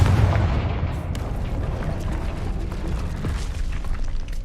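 The Confringo fire spell in the video game Hogwarts Legacy sets off a loud, booming blast at the start, followed by a dense, rumbling explosive roar that holds for several seconds.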